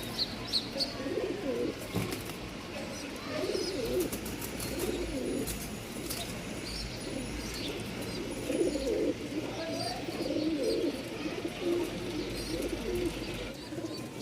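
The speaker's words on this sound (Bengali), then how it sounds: "মেলের ডাক শুনতে পারবেন ইনশাল্লাহ।" Male Jacobin pigeon cooing among other pigeons at a Dhaka bird market, soft repeated low coos over a busy background of chirps and scattered voices.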